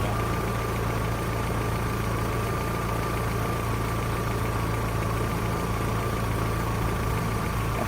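A Rover 800 engine idles with an old exhaust and a slight blow at the flex pipe, giving a steady, close, continuous drone with a constant hum and no talking.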